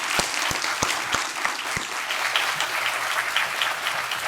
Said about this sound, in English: Should we do one more round of applause for the laureate?